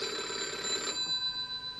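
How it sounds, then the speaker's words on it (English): An internal telephone rings in an indoor setting, a steady electronic trill that cuts off partway through, followed by quiet room sound and a brief knock at the end. "It's the internal phone."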